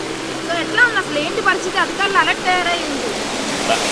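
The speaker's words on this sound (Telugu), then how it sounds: "నిన్నటి నుంచి నాన్ స్టాప్గా వర్షం కురుస్తుంది" Heavy, nonstop rain and floodwater in Vijayawada make a continuous broad rushing wash beneath a person speaking loudly up close.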